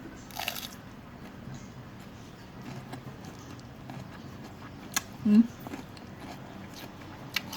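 Crisp bites into raw papaya and fresh vegetables eaten with jaew pla thu, a grilled-mackerel chili dip: a few short, close crunches spaced apart over a quiet room background.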